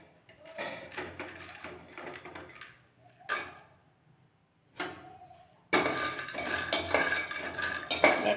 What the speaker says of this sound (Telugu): ధనియాలు, జీరా, కొబ్బరి వేసి వేయించుకోవాలి.